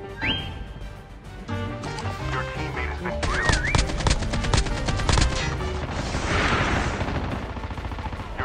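Gunfire in a battle royale video game: rapid bursts of automatic shots rattling close and loud amid game effects, followed by a noisy swell.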